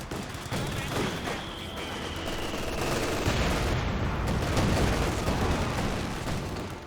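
Sustained rifle and machine-gun fire in a Company of Heroes 2 battle, a dense, continuous crackle of shots with heavy booms underneath, loud and unbroken throughout with no talk.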